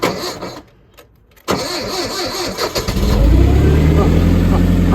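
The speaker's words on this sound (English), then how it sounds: "Let's see if this is going to start." A Massey Ferguson 1200 tractor that had been cranking for ages is started: a brief stretch of cranking, a short pause, then the engine catches and settles into a loud, steady close-up idle, with a voice heard early on.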